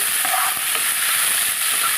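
Broad beans are stir-fried in a hot tempering, giving a loud, steady hissing sizzle with faint scraping stirs running underneath from start to finish.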